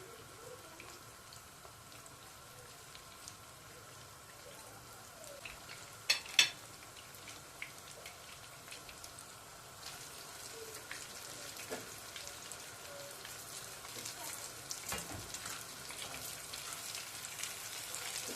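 Eggplant pieces frying in oil, a soft continuous sizzle and crackle with scattered pops and a couple of sharper clinks, fairly quiet and steady, no one speaking.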